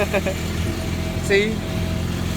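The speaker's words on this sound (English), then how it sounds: "Just casually getting a ride around the block on a tractor" A tractor engine runs with a steady low hum during a slow ride around a city block in Seattle, while a voice speaks briefly over it.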